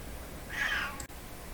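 A pet cat gives a single faint meow in a quiet workshop, a short tonal cry at low level with no one speaking.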